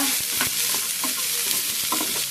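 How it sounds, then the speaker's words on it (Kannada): Onions fry in coconut oil in a clay pot for a Mangalore-style chicken dish. A loud, dense sizzle runs throughout, broken by quick stirring strokes, with no voices. "ತೆಂಗಿನ ಎಣ್ಣೆಯಿಂದ ಈರುಳ್ಳಿ ಎಲ್ಲ ಫ್ರೈ ಮಾಡಬೇಕು."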